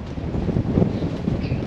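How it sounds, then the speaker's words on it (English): Strong wind of 23 knots gusting to 50 over a sailing boat in the Bahamas, a close rough buffeting roar with fluctuating gusts battering the microphone. "On a 23 knot wind,"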